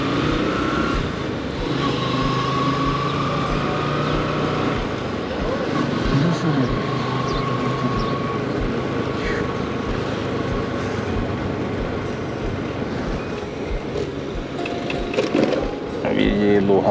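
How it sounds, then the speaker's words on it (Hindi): A vehicle's engine idles and runs after starting on a mountain road trip from Lohaghat to Champawat in Uttarakhand, a steady, fairly loud drone that continues for the whole stretch while someone talks over it. "अब गाड़ी का इंजन हमारा स्टार्ट हो चुका है।"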